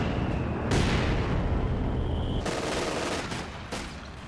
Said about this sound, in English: Mortar's working on the Schwerpanzer headquarters.